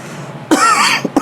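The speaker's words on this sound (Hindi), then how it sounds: "ये खांसी।" A single sharp cough bursts out close by in a quiet classroom-like space, followed by two brief throat-clearing catches.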